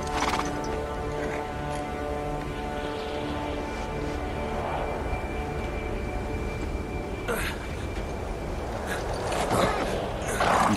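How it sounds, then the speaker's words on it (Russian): Horses in the video game Uncharted 3 neigh and whinny over a steady hooves-and-ambience bed, with louder whinnies near the start, middle and end of the stretch. "Кони не хотят идти."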